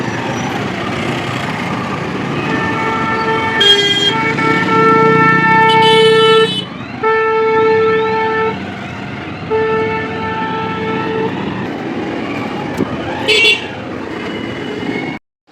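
A train crosses a railway level crossing amid jammed road traffic, with loud, sustained horn blasts repeating close by over a steady rumble of vehicles and background voices.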